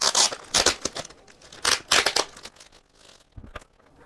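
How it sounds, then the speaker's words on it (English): Crinkly plastic bag wrapped around a Lenovo m93p Tiny desktop PC gets pulled open, giving several sharp rustling and tearing bursts close to the mic, with brief pauses between them and a softer crinkle near the end. "Inside of a plastic bag. Open this thing up here."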